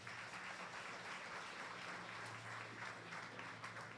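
Audience applause at a KwaZulu-Natal government partnership launch event, a steady, even wash of clapping that carries on without pause, fairly faint and distant.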